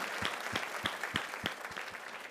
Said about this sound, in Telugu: గట్టిగా చప్పట్లు కొడుతూ దేవునికి స్తోత్రాలు చెల్లిద్దాం